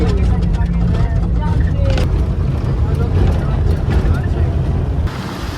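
A car climbs a hilly mountain road in the Dooars at speed: a loud, continuous low engine and road rumble with heavy wind buffeting from inside the vehicle, easing slightly near the end.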